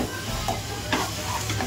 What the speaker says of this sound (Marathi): आणि तो हा ढवळून घेऊया.